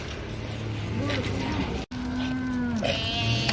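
Sheep and lambs bleat at an open livestock market in Uzynagash near Almaty, several drawn-out calls rising over a busy background hum. Voices talk nearby.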